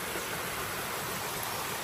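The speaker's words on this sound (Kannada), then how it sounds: "ಮೇಲ್ಗಡೆಯಿಂದ ನೀರು ಜುಳು ಜುಳು ಅಂತ ಹರಿದು ಬರ್ತಾ ಇದೆ" A stream of rainwater runs down from a hill after a heavy downpour, giving a soft, continuous rushing wash, steady and unbroken, with no voices over it.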